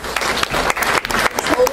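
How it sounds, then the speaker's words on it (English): Loud, close applause from an audience at a senior oratorical contest greeting a contestant, choppy bursts of clapping with some voices mixed in. "Please hold your applause."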